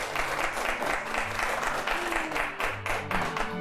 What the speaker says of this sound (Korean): 우리 김난 정사님께 박수 한번 드릴까요?